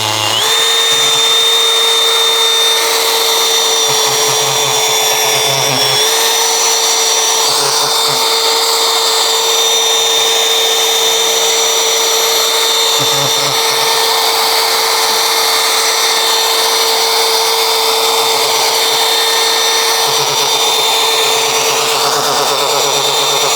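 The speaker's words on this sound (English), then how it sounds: "you can turn your drill on slower if you'd wish to" A power drill with a sanding attachment grinds steadily against a plastic car headlight during restoration, giving a loud, continuous whine with slight shifts in pitch and pressure, close up and without talk.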